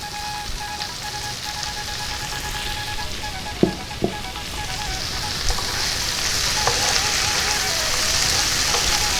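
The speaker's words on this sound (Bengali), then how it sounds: "পেঁয়াজের সঙ্গে সঙ্গে চিংড়ি মাছটা ভাজা হবে" Marinated prawns fry with onions in mustard oil, giving a steady, moderately loud sizzle with a few sharp clicks of stirring; no talking over it.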